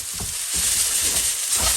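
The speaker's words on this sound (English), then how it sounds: "If you can fry the noodle to golden brown" Noodles with bean sprouts fry in a hot pan, giving a loud, continuous sizzle with soft stirring scrapes and no talking.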